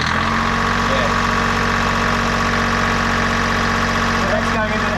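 A boat or vehicle engine runs at a steady, loud idle while charging a lithium battery bank through a DC-DC charger, a constant rumbling drone with slight labouring, and people talk over it.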